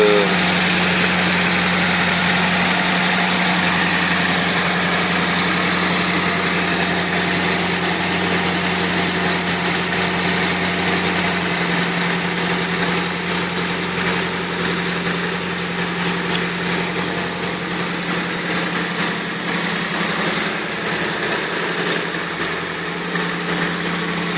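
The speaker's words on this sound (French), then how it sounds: "Donc le moteur, pas de bruit spécial," A PS13 engine idles steadily and loudly nearby, its constant low hum and mechanical vibration holding for the whole stretch with no voices.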